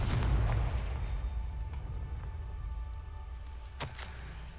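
A Confringo spell explodes in Hogwarts Legacy with a deep, booming blast that rumbles and fades, followed by a smaller sharp pop a few seconds later.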